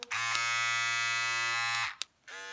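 A Philips Norelco Series 5100 beard trimmer runs with a steady, fairly quiet electric buzz for about two seconds, cuts off briefly, then starts humming again, with no talking.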